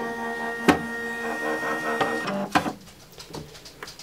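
A Silhouette Cameo cutting machine powers on with a few sharp mechanical clicks and clunks over a steady electronic hum, followed by short whirring motor movements, close and moderately loud with no voices.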